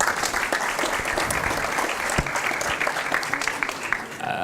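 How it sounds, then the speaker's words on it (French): Audience at a tourism round-table on virtual and augmented reality applauding a speaker, sustained mixed clapping from a room of people with a few sharper individual claps standing out. "Merci, Monsieur Barret, on peut l'applaudir."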